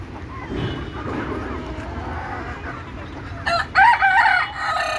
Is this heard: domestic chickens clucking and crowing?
yes